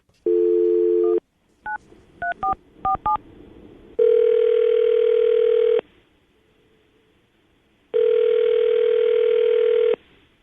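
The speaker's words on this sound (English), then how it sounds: "we're going to call her right now, get her on the phone" A landline telephone plays a steady dial tone, then a quick run of touch-tone keypad beeps, followed by two long ringback tones separated by silence, loud and clear with no talking.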